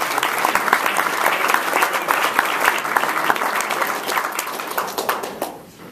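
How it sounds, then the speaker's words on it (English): Sustained applause from a roomful of people at a Rotary club meeting, dense overlapping claps with sharp individual hits standing out, fairly loud and near, tapering off toward the end. "Let's give them a round of applause."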